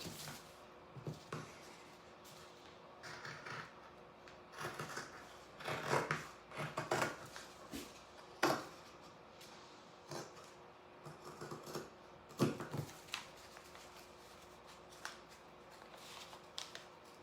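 Scissors snipping through fabric around a pinned paper pattern while making a stuffed pumpkin, with irregular bursts of cutting and rustling cloth, close and fairly quiet, no talking.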